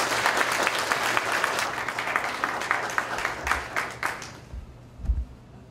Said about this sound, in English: let's give them both a loud round of applause.